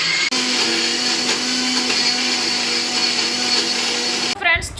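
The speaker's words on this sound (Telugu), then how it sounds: "ఇది ఫైన్గా మిక్సీ పట్టుకోవడమేని" A mixer grinder whirs loudly and steadily, blending green gram with green chili, cumin, ginger and onion into a fine paste. The motor drone holds constant for several seconds, then cuts off abruptly near the end.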